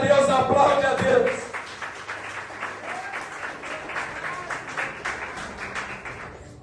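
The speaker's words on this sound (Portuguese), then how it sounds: "Quem é grato por isso, aplaude a Deus, aplaude a Deus." A voice rings out briefly before a church congregation breaks into applause, a lively, somewhat loose clatter of many hands that carries on steadily at moderate loudness for several seconds.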